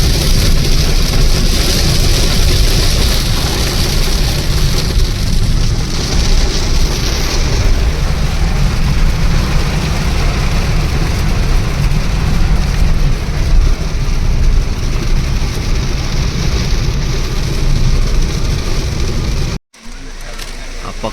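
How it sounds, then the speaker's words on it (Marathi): Heavy monsoon rain pours down near a waterfall on the road from Mumbai to Konkan, a dense, loud, unbroken hiss for about twenty seconds that cuts out briefly near the end, with voices now and then over it. "हा पाऊस बघा केवढा पडतोय"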